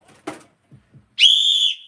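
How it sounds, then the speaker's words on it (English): A sharp, loud whistle blast held for about half a second, shrill and steady, following a few faint knocks and soft vocal sounds. "Did I shock you with the whistle?"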